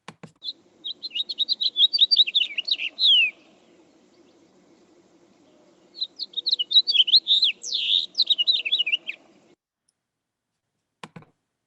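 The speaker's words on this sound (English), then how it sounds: "the other finch that we have in the area is the house finch." A house finch sings two bright, warbling phrases of rapid twittering notes, each lasting about three seconds, separated by a pause, over a faint low background hum and a couple of soft clicks at the end.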